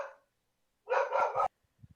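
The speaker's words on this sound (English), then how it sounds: "Oh, they're getting mad. The dogs are getting mad." A dog gives a short bark or yip, then a sustained half-second howl-like bark close to the microphone, followed by faint small sounds.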